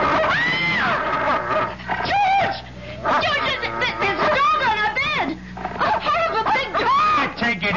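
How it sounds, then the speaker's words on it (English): A dog barks, whimpers and growls in a 1974 old-time radio mystery drama, the sharp yelps and snarls rising in bursts over and between several actors' overlapping voices. "It's only a dog"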